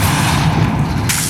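A Depulsor spell is cast in Hogwarts Legacy, landing as a loud, dense boom with a rumbling, continuous low-end thud that carries through the whole moment before a bright hiss at the end.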